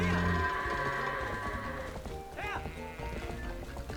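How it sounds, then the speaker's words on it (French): Goats bleat agitatedly in Zelda: Twilight Princess HD, a wavering cry rising over game music, hoof clatter and busy ranch effects, fairly faint. "si maintenant les chèvres en plus s'agacent"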